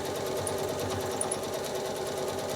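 A sewing machine quilting straight lines across a nine-patch quilt block runs in one continuous, even, fast whir with a steady needle rhythm, close and moderately loud, no voices.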